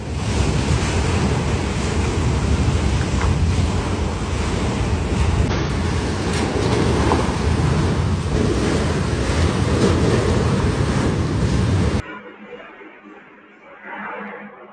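Backyard pool water sloshes and surges in waves during California's 7.1 earthquake, a loud continuous rushing wash with wind buffeting the microphone, then it drops to a quieter, thinner slosh near the end.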